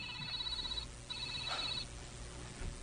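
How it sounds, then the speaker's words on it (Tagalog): A telephone rings twice with a bright electronic trill, each ring about three-quarters of a second long with a short gap between, heard faintly against a low background hum. "Ihangap na telepono."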